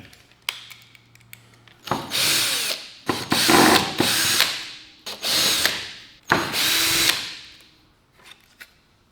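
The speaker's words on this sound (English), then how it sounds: "I would try to drill as close to center as possible" A power drill bores mounting slots during an installation, five loud bursts of motor whine, each lasting about a second, separated by short pauses and ending in a spin-down.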